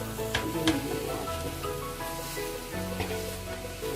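Mashed mixture fries gently in a pan over a low flame with a soft, continuous sizzle. Occasional stirring clicks come through, and the sound stays fairly quiet and close.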